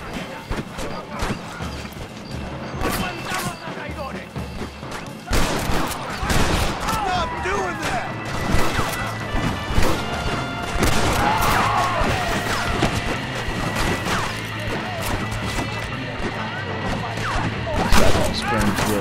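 Springfield rifle gunfire in the video game Red Dead Redemption, a dense burst of sharp shots and impacts crackling over a steady background of game ambience and music.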